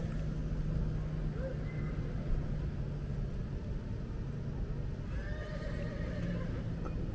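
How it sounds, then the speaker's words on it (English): A real horse whinnies faintly in the distance at a livestock pavilion in Ocala, a short high call over a steady low engine-like rumble and background noise. "That was a real horse going whinny, whinny, whinny."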